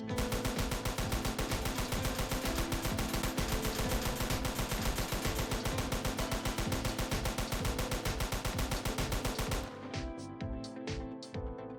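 A gun fired in Roblox ERLC (Liberty County roleplay) without managing recoil: one long, loud, unbroken automatic burst lasting about ten seconds, then a few scattered trailing clicks and echoes.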